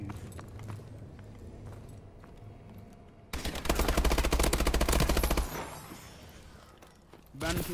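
Video game gunfire during a shotgun free-for-all match, background shots at first, then a loud, sustained rapid volley of close shots lasting a couple of seconds before fading, with a final burst at the end.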